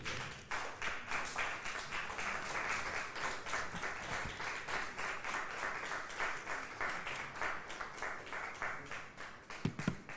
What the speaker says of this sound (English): I think we can clap a bit more.